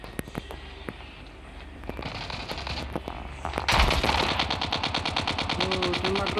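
Bursts of rapid automatic gunfire from the Call of Duty video game, starting sparse and growing into dense sustained firing, with voices talking over it.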